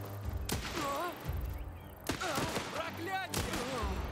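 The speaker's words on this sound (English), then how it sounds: "They just shoot them all at the same time." Several near-simultaneous gunshots ring out as a volley in the Last Train Home video game, with sharp bursts recurring a few times amid background voices and battle noise.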